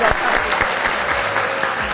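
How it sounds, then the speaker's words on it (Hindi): Studio audience on a Pakistani talk show breaks into steady applause, a dense, even patter of many hands clapping near the microphone with no speech over it. "बहुत सारी तालियां हो जाए।"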